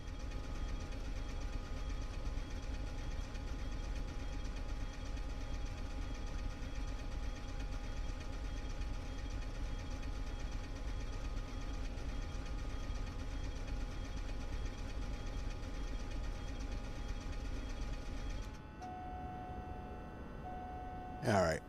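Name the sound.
Diamond DA40 engine in Microsoft Flight Simulator 2024 video game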